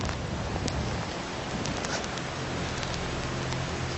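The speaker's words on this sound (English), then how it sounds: "when it starts raining with the wind as well" Rain driven by wind in open Patagonian country, a steady broadband wash with scattered drop impacts and a continuous low gusting rumble, loud and unbroken throughout.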